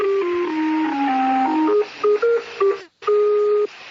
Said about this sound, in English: This is an actual number station.